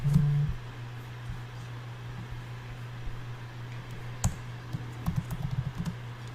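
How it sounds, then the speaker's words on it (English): Sparse keyboard clicks tapping now and then over a steady low electrical hum, with a quicker cluster of keystrokes toward the end. "I'm sitting here typing and mumbling"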